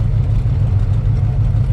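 A 1970 Chevrolet Chevelle SS454 with the LS5 engine and four-speed runs with a loud, deep, steady rumble that stays close and even over the short stretch, with no talk.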